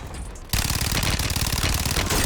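Sustained rapid machine gun fire in Call of Duty: Warzone: a loud, dense burst that starts abruptly and rattles on without pause for about two seconds, with no voices.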